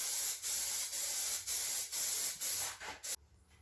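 Aerosol can hosing on a heavy coat of Plasti Dip rubber coating, a close, loud hiss in rapid bursts of about half a second that ends abruptly.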